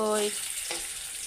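Potato pieces sizzle in a hot pan, a steady bright hiss of frying that runs unbroken throughout, with a short tonal sound at the start and a faint clink midway.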